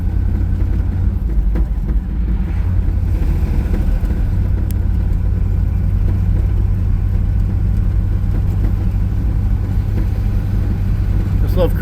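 A 1955 Chevrolet Bel Air two-door hardtop cruises on the road with a steady, deep engine rumble and road drone heard from inside the cabin, continuous and fairly loud under occasional talk.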